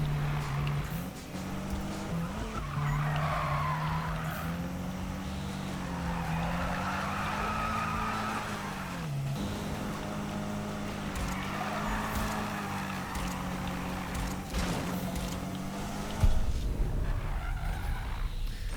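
Sustained car tire squeal while drifting in Need for Speed 2015, with a steady engine drone beneath and wavering screech pitch, ending in a louder burst near the end.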